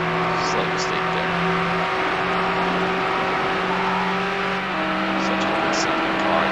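Porsche 911 engine racing in Need For Speed Hot Pursuit 2, a steady high-pitched engine drone holding gear with a brief pitch shift, continuous and loud throughout.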